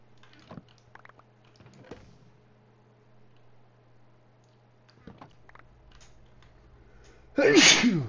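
One loud, close sneeze bursts out near the end, after quiet stretches of faint clicks, a low hum and soft background noise.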